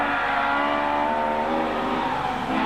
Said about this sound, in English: just listen to that BDA screaming